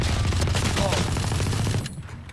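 Rapid automatic gunfire from the tactical shooter game Valorant rattles out in a loud, dense burst before cutting off abruptly near the end.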